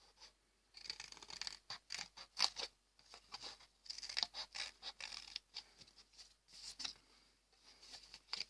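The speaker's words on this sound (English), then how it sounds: "With a pair of scissors we will create our" Scissors cutting red paper into a heart shape, a steady run of small close snips and crisp paper rustles repeating quickly and fairly quietly, with no talk.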